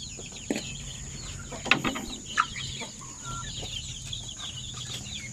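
Native chickens cluck steadily at close range in a quiet setting, with scattered louder squawks over a continuous background chatter of poultry.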